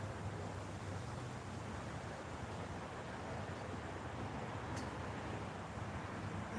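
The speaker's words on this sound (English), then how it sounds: "Wind's dying down." Steady outdoor wind blows in a continuous, even roar, broadband and constant throughout, with no voices heard.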